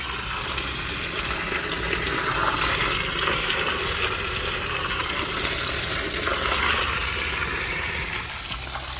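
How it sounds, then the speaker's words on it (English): A sump pump pushing a strong, steady gush of water through pond stones, a loud continuous rushing and splashing with no voices. "the sump pump is a lot better than the garden hose, so it kicks up a lot more dirt up out of the stone"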